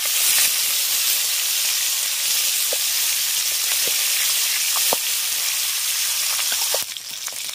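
Pond fish frying in hot oil gives a loud, steady sizzle and hiss throughout, with a few brief pops and crackles. No voices are heard.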